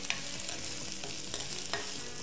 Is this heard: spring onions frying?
yes